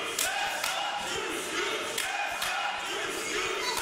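Wrestling crowd at London Comic-Con during a women's match, Tessa Blanchard vs KC Spinelli: a continuous roar of chanting and cheering that swells in waves, dense and steady throughout.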